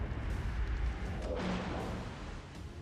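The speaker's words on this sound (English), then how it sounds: "See if the secondaries get him." Warship secondary guns firing in World of Warships Legends, a dense rumbling barrage of booms under constant battle noise.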